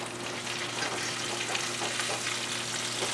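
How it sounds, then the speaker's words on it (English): Bacon sizzles and crackles steadily in a frying pan, a dense, even hiss held at close range with no pauses and no voices. "All right, I gotta go flip some meat."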